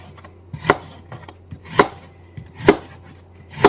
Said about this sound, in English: I chopped the onion lengthways,